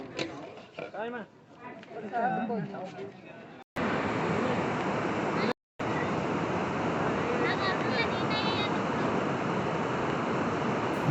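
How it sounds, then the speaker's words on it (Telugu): The Ganga river rushing at Gangotri, a loud, steady roar of fast-flowing water close by that follows a few seconds of someone talking. "గంగా ప్రవాహం అయితే ఈ విధంగా ఉంది"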